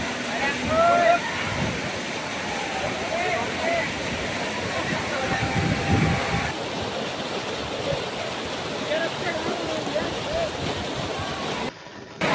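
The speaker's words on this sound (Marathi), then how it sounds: "खोपोलीतील झेनिथ धबधबा हे पर्यटकांचे आवडते ठिकाण असून" The Zenith waterfall at Khopoli roars as a steady broadband rush of falling water, loud and continuous, with a few faint voices of visitors mixed in.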